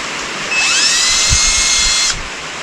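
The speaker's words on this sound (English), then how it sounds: "Drilling holes! Hole drilling!" A power drill boring a hole runs for about a second and a half with a high, steady whine that rises as it spins up, close and loud, then cuts off.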